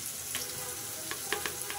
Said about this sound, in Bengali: পেঁয়াজটা আমার লাল লাল করে ভাজা হয়ে গিয়েছে। এখন আমি এটার সাথে